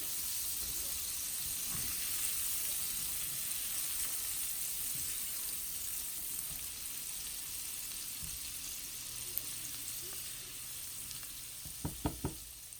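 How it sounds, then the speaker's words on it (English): Vegetables frying in bacon drippings in a pan for shrimp and grits, a steady soft sizzle throughout with a few sharp clinks of a utensil near the end. "Okay, I have let my vegetables cook for a couple of minutes."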